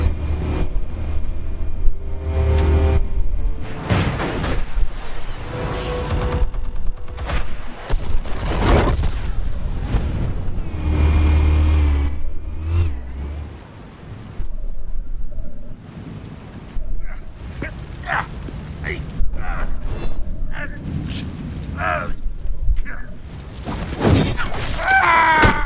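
Explosives detonate in a Batman video game, with heavy booms and shattering crashes recurring through a loud, dense game soundtrack, mixed with voices and effects.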